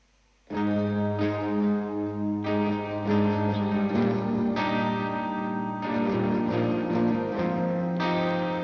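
Electric guitars ring out with a sustained, roomy lead line, notes held long and changing every second or so, full and reverberant with no voices.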